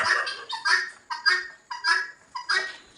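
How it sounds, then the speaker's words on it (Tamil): Loud, repeated honking calls from turkeys and guinea fowl on a farm, about five bursts in quick rhythm, close by with no talking. "வான்கோழி கிண்ணிக்கோழி இது எல்லா கோழியுமே இயற்கையாக வள வளர்க்குறாங்க"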